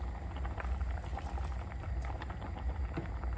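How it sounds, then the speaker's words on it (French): Hot water poured into canned beans in a pot for a seafood cassoulet, a steady bubbling, pouring wash close by with no talk. "je vais rajouter un peu d'eau, de l'eau chaude"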